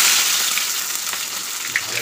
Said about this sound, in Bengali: পেঁয়াজ রসুন মশলা তেলে দিয়ে লবণ দিয়ে একটু ভেজে নিব